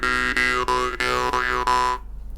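A jaw harp (mouth harp, khomus) twangs loudly and close, its buzzing drone holding one note while the overtones sweep up and down in several plucked phrases before stopping abruptly.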